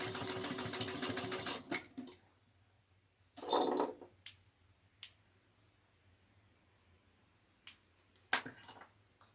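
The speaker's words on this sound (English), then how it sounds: "We're going to sew these two pieces down at 3/8 of an inch." Sewing machine stitching two fabric pieces together at a 3/8-inch seam, a rapid run of close needle clatter for about two seconds, then quiet with scattered clicks and a short rustle.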